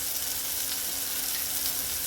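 Onions and tomatoes fry in a pan with turmeric and salt for palak paneer paratha, giving a steady, even sizzle and crackle close by with no voices.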